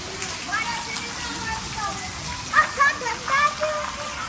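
Steady rain hisses in the background in a village in Pakistan, while high chirping calls and faint voices come through over it.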